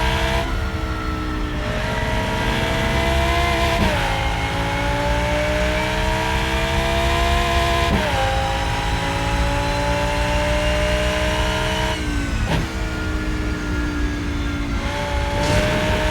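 Race car engines in the Rennsport racing game at Hockenheim howl continuously at high revs, with sharp pitch drops at gear shifts and rising whines as the car accelerates, loud and close with no talking.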